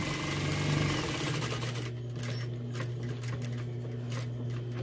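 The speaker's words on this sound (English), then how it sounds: "now I'm going to keep stitching all the way around" Sewing machine stitching around the edge of a fabric wall hanging, a steady close mechanical whir with rapid needle chatter, running continuously, louder at the start and settling into a rhythmic hum.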